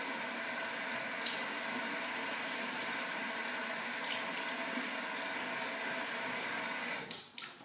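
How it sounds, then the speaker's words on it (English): Warm tap water runs steadily over a safety razor while it is rinsed, a continuous close hiss that cuts off near the end with a few clinks. "now I'll just perform a rinse, just a little warm water rinse."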